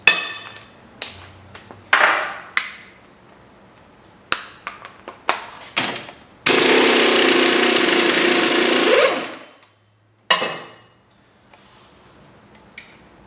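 Metal hammer taps on the drive axle of a Chevy HHR front suspension, a series of sharp, close strikes spaced irregularly, broken by a few seconds of loud continuous air-tool noise.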